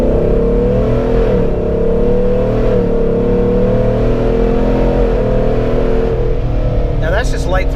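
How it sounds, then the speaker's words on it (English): Jeep Wrangler JK with a swapped LS7 V8, 5-speed and heavy armor on 40-inch tires, revving at light throttle: a loud, steady deep engine drone with gentle rises and falls, close up, continuous throughout. "Now that's just light throttle, guys, and it sounds like a Corvette."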